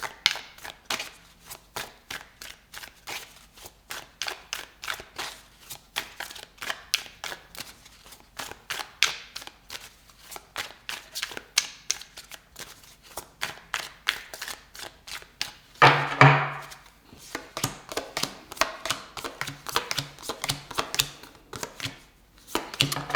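Tarot cards are shuffled, drawn and laid out for a reading. Rapid, crisp card flicks and taps run steadily throughout, with a louder burst of riffling partway through, close and without talk.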